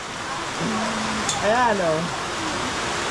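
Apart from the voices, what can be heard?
heavy rain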